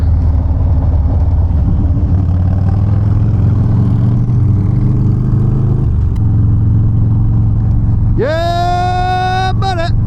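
Motorcycle engines idle and build together nearby, then one rider revs hard with a sharp rising whine as the bikes set off.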